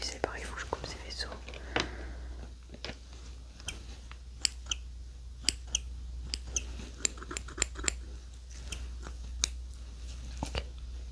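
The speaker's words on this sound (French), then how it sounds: "Donc lui c'est pareil, il faut que je coupe ses vaisseaux." Snipping cuts through an alien's vessels during a French ASMR autopsy roleplay: a string of crisp, close scissor-like clicks spaced irregularly over a quiet hiss, with soft whispering in the opening seconds.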